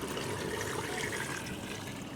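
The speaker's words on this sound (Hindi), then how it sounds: "देखें, ये पानी हमने डाल दिया।" Two to three litres of water pour into a pot of fried masala and one kilo of beef for nihari, a steady, rushing, splashing stream heard close and continuous with no voices.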